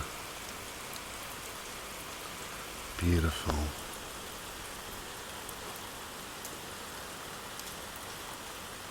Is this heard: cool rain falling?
yes